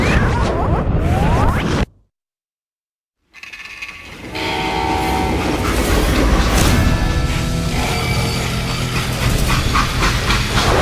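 Freight train in the Western shooter game Call of Juarez Gunslinger, a loud, dense rumble of rolling cars and machinery broken by a sudden silent gap of about a second and a half, then returning as a sustained roar with tonal, horn-like bands.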